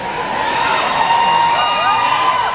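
Concert audience cheering and whooping in a continuous roar, loud and close, with no clear claps standing out.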